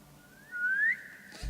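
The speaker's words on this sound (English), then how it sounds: "like the throwing knives, you have a whistle move" Whistle move in Assassin's Creed Chronicles: China, a single rising whistle that sweeps upward and then stops, clear and moderately loud over a quiet background.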